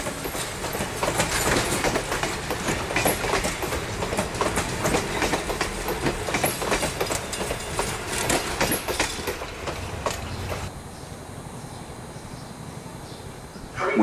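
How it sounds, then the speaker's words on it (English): An Amtrak train hauled by an AEM-7 electric locomotive rushes past close by at Old Saybrook station, wheels clattering in a rapid rhythmic clickety-clack before the roar suddenly drops to a fainter rumble. "soon after our arrival at 1:42 p.m. is train 163 with AEM-7 number 941"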